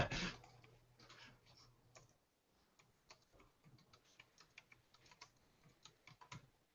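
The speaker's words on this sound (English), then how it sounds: "where I'm typing the notes there" Fingers type notes on a computer keyboard, a quiet, close patter of light clicking keystrokes in irregular bursts after a brief louder thump at the start, with no one talking.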